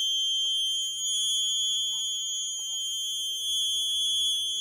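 A buzzer alert sounds from an Internet of Things women's security device built around a microcontroller board, giving a steady, loud electronic tone that holds throughout without talk.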